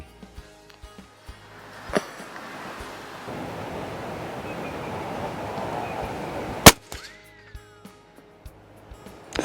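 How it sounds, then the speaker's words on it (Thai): Rifle fired at a range while testing a Discovery HT 4-16x44 SFIR FFP scope: one sharp, loud shot cracks near the end, with faint clicks and rustling around it and a stretch of wind-like hiss beforehand. "อันดับแรกยิงดูตำบลนะครับ ยิงดูจุดตกเขาก่อน"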